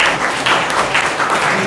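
Audience applause at a motivational talk, a brief burst of steady clapping from a room full of listeners, moderately loud and continuous.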